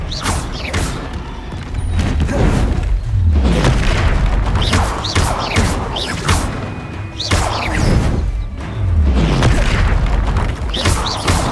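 Incendio and Expelliarmus spells cast in the game Hogwarts Legacy, repeated booming blasts and whooshing impacts firing in quick succession over a dense, loud game soundscape.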